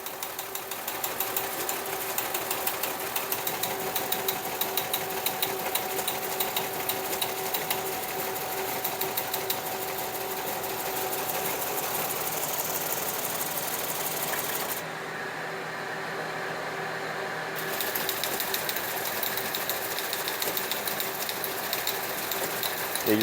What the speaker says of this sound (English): here you can see we're still printing out tape. We're still reading the tape.